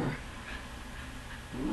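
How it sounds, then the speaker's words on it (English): A dog at home barks and whimpers: short muffled yelps at the start and again at the end, over a steady noisy background. "Yeah, my dog's name's Buster."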